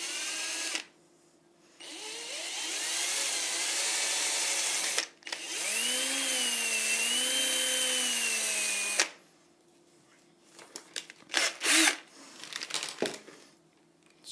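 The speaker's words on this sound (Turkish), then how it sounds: "deldiğimiz yerin yatayından merkeze doğru bir delik deleceğim" Electric drill boring a hole in a wooden model aircraft part, two sustained whining runs close up separated by brief pauses, then scraping and crinkling handling noises.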